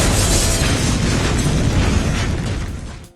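A loud, sustained explosive blast rips through a house as police prepare to storm it in the film Léon, a dense roaring burst that rumbles on for a few seconds before fading out.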